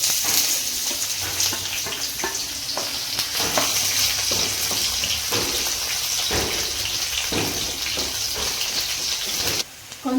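Green chillies and onions fry in hot oil with cardamom, cloves, bay leaf, cinnamon and a little turmeric for a mushroom curry, giving a dense, steady, close sizzle with occasional stirring scrapes and no talking.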